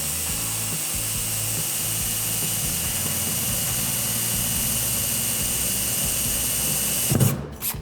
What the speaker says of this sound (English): Center hole, drill one more